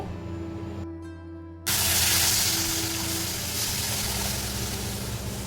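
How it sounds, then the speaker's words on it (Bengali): Water poured into a hot wok where dried chillies were just fried gives a sudden loud hissing burst after a brief quiet moment, then settles into a steady sizzle. "এবার কড়াইয়ে জল দিয়ে দেব।"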